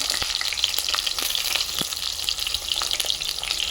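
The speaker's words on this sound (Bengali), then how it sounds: "এই যে বেগুন দিয়ে দেব আগে তেলে" Eggplant pieces frying in hot oil, a dense continuous sizzle with scattered crackles and pops, close up and steady throughout, no one talking.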